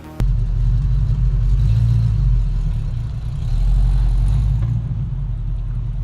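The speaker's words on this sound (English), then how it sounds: "If it sounds like this, you need to add more gas." A manual-transmission car engine at low revs, sounding bogged and short of throttle, with a steady deep rumble that continues close and loud for the whole stretch, dipping slightly partway through.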